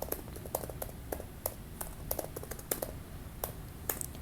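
Quick, light tapping on a computer keyboard, soft close-up key clicks arriving in an uneven rhythm as a date and location are entered.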